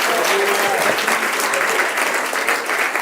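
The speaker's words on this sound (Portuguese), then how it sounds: "aplauda forte que é para ele" A church congregation applauds steadily for about three seconds, dense continuous clapping from many hands filling the room with no gaps.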